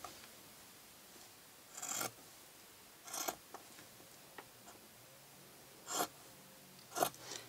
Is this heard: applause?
no